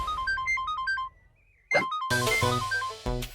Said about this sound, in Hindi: हाय काली नागिन का फोन।